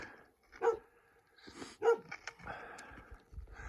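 A dog in the village of Takesi on Bolivia's Takesi Trail gives two short, sharp barks about a second apart, followed by faint yips and shuffling nearby in an otherwise quiet outdoor setting.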